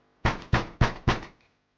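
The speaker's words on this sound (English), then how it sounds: "The knock came again, a little louder this time." Four firm knocks on a door in a quick, even rhythm, close and loud, then silence.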